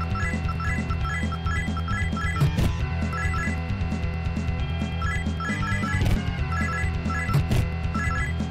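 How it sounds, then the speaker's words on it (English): A bell in the Shin Megami Tensei I video game rings in a repeating electronic chime pattern over game music, steady and moderately loud. "I don't suppose ringing the bell will make these guys go away."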